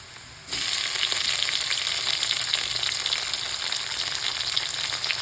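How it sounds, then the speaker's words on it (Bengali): Chopped tomato drops into a pan of reddened frying onions and green chilies, and a loud, close, hissing sizzle bursts up suddenly and holds steadily with no speech. "এখন আমি দিয়ে দেব কেটে রাখা টমেটো"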